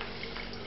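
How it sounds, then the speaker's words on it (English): Stock for lamb bordelaise on a slow simmer in a pot, giving a brief, steady, soft wash of bubbling liquid with no voices. "this has been on a slow simmer now"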